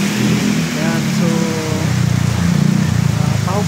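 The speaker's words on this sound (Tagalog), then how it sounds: "pahupain natin yung ulan bago tayo umalis kahit tayo naka-raincoat" Heavy rain pouring in Tambo, Parañaque, a loud dense hiss with a low rumble, heard close and steady beneath someone talking.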